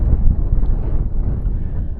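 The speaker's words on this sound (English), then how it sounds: "It's getting quite windy now." Strong wind buffets the microphone on a hillside in the Yorkshire Dales, a low, continuous roar with gusty rises and falls, no other sounds standing out.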